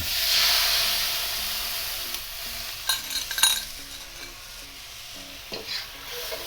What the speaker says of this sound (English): I'm gonna give my sauce one quick mix and just drop it in.